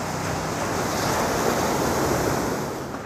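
Continuous roar of ocean surf washing onto a white-sand beach at Tunggul Buto, loud and close, with a windy hiss over the top and no voices.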